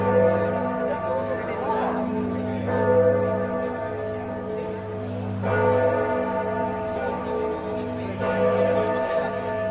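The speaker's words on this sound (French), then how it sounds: "On va entendre les cloches en plus." Church bells in Tuscany, Italy ring out in a sustained, overlapping peal, with fresh strikes every few seconds and a faint murmur of people in the background.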